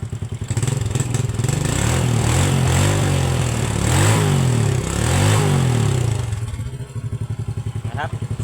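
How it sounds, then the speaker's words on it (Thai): A Honda Wave 100 engine, just repaired after a spark plug fault, starts first try and idles with a steady putter, revving up and down a few times before settling into a clattering idle. "อันนี้ผมก็จะสตาร์ทให้ ฟังเสียงครับผม ว่ามันยังใช้งานได้ จริงหรือเปล่าครับผม"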